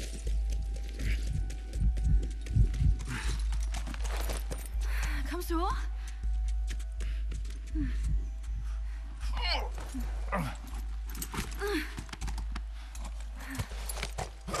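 Hooves of a horse clip-clop through snow in The Last of Us, in steady rhythmic steps close by under a low droning hum, with voices talking over the gait.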